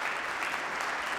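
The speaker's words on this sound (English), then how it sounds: "Let's give them a round of applause." A church audience claps together in a dense, even burst of applause, moderately loud and filling the room, with no voices over it.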